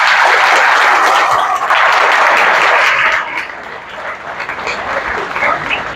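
Loud applause from an audience at a maths book launch ceremony, dense and sustained for about three seconds before easing to a softer, thinner clapping that carries on to the end.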